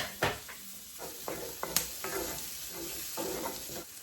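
Onions sizzling in oil in a cast iron pan for beef stew, a quiet steady fry with a few sharp spoon taps and scrapes scattered through.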